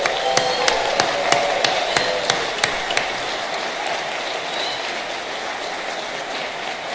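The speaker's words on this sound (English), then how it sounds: "let's warm up this space by putting our hands together and offering a cheer" Audience applause and cheering fill a room at a morning Bronx borough celebration, with dense steady clapping and a few sharp, distinct claps early on, then settling into a continuous wash; no one speaks.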